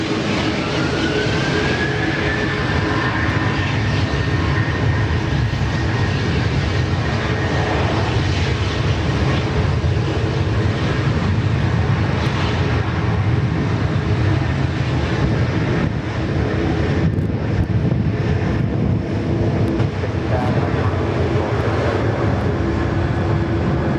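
Malaysian airliner taking off at Sydney Airport, a loud, sustained jet engine roar with a rising whine that holds steady throughout, heard with no speech.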